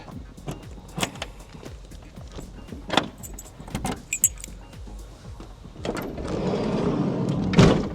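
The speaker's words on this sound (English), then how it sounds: "And if I put the key inside the deadlock," A key scrapes and clicks in the deadlock of a Ford Transit Custom van door, with light metallic jangling and a few sharp taps, then a low mechanical whir.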